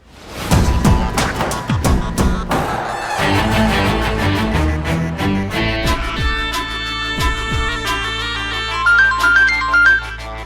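A phone ringtone plays loudly and alone as a bright, repeating electronic melody with percussive hits, continuing steadily for the whole stretch before a call is answered.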